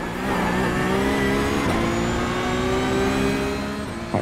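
Porsche Cup car engine in a racing game at the Nürburgring, a loud sustained high-revving drone rising in pitch as the car accelerates, close and continuous.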